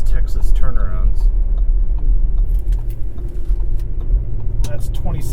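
A 2018 Audi SQ5 driving through a tight Texas turnaround corner, with a steady low engine and road rumble heard from inside the cabin while someone talks over it.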